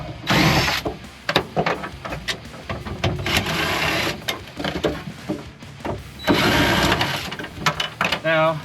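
Impact wrench spinning bolts out while gutting a car for a figure 8 race build, loud mechanical whirring bursts repeated several times with ratcheting clatter, mixed with someone talking between them.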